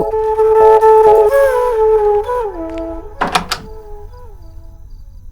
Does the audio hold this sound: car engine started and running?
no